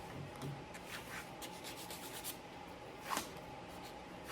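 Soft rubbing and scraping as a burnt cut edge left by a cut-off tool is lightly sanded by hand, a faint, steady abrasive shuffle with one brief louder scuff, close up and without speech.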